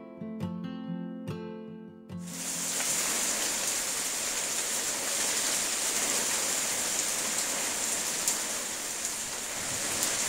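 Heavy storm rain pours down steadily as a dense, continuous hiss, close and loud, taking over after a brief stretch of music in the first couple of seconds.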